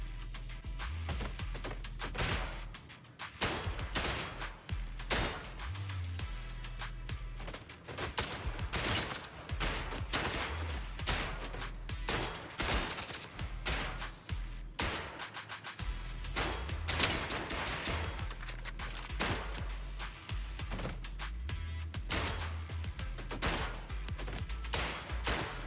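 Gunfire from the video game Zenless Zone Zero, sustained rapid bursts of shots and impacts packed almost continuously, loud and busy with only brief gaps.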